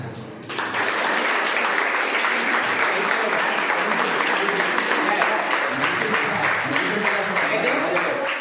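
Classroom of fourth-grade students clapping together in a dense, steady burst of applause that starts abruptly and holds at full strength, with some voices mixed in.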